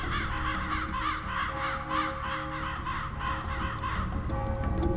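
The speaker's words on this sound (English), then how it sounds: "The crow is dark and ominous." A flock of crows caws repeatedly, harsh rasping calls overlapping in a loose, irregular rhythm, fairly near and continuous over a low rumbling background, with no voices.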